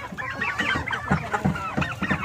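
Young turkeys about two months old gobble and cluck together in a pen, a close, busy chorus of repeated calls with no talk over them.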